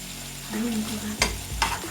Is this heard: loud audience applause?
no